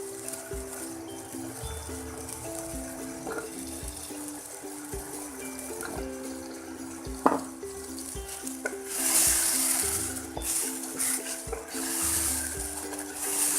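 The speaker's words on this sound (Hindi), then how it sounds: "आलू को भी थोड़ी देर तक मसाले में फ्राई कर लेंगे" Potatoes frying in a tomato-based spice masala in a pan, with a steady soft sizzle, occasional stirring clinks and a louder hissing spell partway through, close and continuous with no talk.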